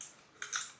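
Two quick keystrokes on a 60% Watchart Wakizashi mechanical keyboard, close and fairly soft, after a moment of near silence.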